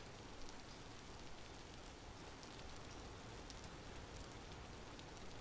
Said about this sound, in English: I love the rain sounds of Vintage Story